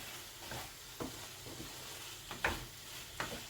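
Pepper sautés in oil in a pan: a soft, low sizzle runs throughout, broken by a few quiet, separate knocks and scrapes of stirring.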